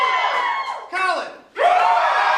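Loud crowd cheering and whooping from an improv show audience voting, coming in three quick bursts with brief dips between them.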